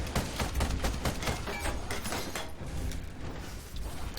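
Weapon fire in the Ironcast mech combat game rattles out as a rapid burst of loud, closely spaced shots and mechanical clanks, densely layered and continuous for a few seconds.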